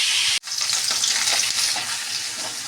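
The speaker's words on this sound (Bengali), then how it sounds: "মাথাটা ভাজা হোক ভালো করে," Fish heads sizzle in hot oil with a dense, crackling fry; the sound cuts out for an instant, then resumes steadily with faint stirring underneath.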